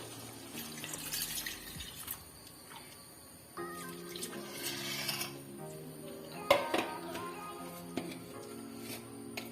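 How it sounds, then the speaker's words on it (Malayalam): Coconut milk poured into a pan of potato curry, a soft liquid trickle and splash with a few utensil knocks, faint and close, no talking. "ഒരു മുറി തേങ്ങയുടെ പാലെടുത്തതാണ് ഇതിന് ഒന്നാം പാലും രണ്ടാം പാലും എല്ലാം കൂടി ചേർത്താണ് എടുത്തിരിക്കുന്നത് ഇത് ഇതിലേക്ക് നമുക്ക് ഒഴിച്ചു കൊടുക്കാം"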